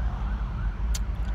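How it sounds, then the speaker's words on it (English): An ambulance siren wails steadily on a road, heard from inside a moving convertible, its tone continuous over engine and wind rumble, with a brief sharp noise near the end. "Uh-oh, there's an ambulance up here."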